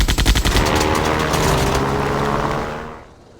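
Fighter plane machine guns firing in the air-combat game Ace Patrol 2, a rapid loud rattling burst over an engine drone that fades out near the end, no talk.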